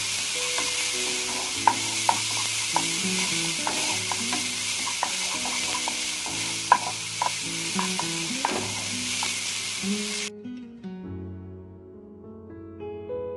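Pieces pan-frying briefly to crisp for a jackfruit guava cheesecake, sizzling steadily with stirring clinks and scrapes over an underlying bed of music, the sizzle cutting off near the end as the music carries on alone.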